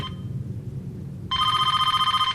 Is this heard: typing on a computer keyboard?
no